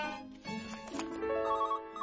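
Cartoon telephone ringing, a steady electronic trill that runs through most of the two seconds under a busy, bright soundtrack, with no talk.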